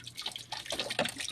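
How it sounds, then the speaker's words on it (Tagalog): Water from a tap splashes and patters into a container as it is collected for watering plants, a close, uneven dripping and running sound with no talking. "salod na kog tubig."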